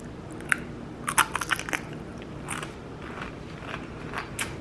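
Homemade keto cheese crisps being bitten and crunched, with a few sharp, close crackling bites followed by quieter chewing crunches.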